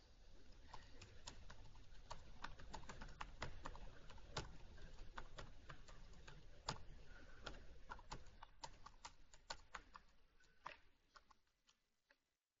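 Typing on a computer keyboard, quick irregular key clicks tapping along steadily at close range and fairly quiet, thinning out toward the end.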